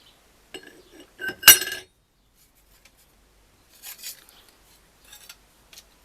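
Metal clutch discs for a Victoria KR25 oldtimer motorcycle clink together as they are handled, with a few sharp light metallic clinks, one louder cluster near the start, and scattered softer taps after long pauses.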